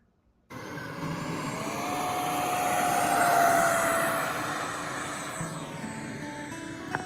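Engine drone of an RC airplane flying in the Utah mountains, rising to a peak and then fading as it passes, steady and at moderate distance, following a brief silence at the start.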